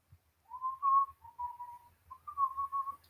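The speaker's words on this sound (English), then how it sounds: "That was just a random whistle, by the way." One person whistles on their own, a short clear tune of a few sustained, slightly wavering notes, close to the microphone and quiet.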